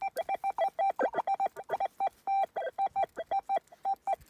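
Minelab Manticore metal detector sounding a signal at a former house site outdoors: a rapid run of short, bright electronic beeps in an uneven pulsing rhythm, loud and close, with no voices.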